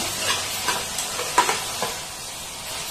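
Mutton gravy ingredients stirred in a hot pan, with soft scraping and clinks of a utensil against the metal over a steady low sizzle.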